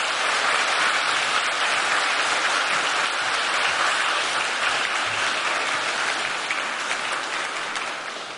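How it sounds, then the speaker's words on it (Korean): An audience in a church applauds to welcome a pastor to the stage, a full, sustained roar of clapping that stays loud and even before easing slightly at the end, without speech. "우리 힘찬 박수로 목사님 모시겠습니다."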